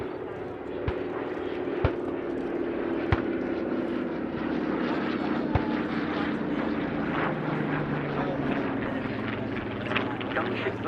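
A Douglas R4D propeller aircraft flies low overhead at an airshow at Duxford. Its steady, loud engine drone fills the whole scene while an announcer talks over it.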